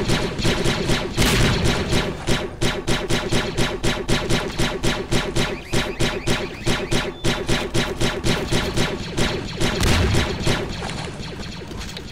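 Sustained rapid turret gunfire in a Clone Wars roleplay match in Garry's Mod, a dense stream of loud shots with heavy booming impacts running throughout, close and unbroken.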